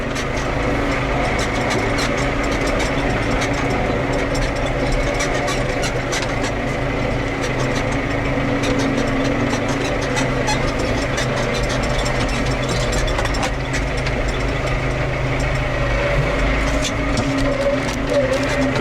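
A tractor loader's heavy diesel engine idles steadily and loudly up close, a constant low rumble with a throbbing rhythm that never changes.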